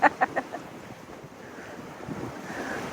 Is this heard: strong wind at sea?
yes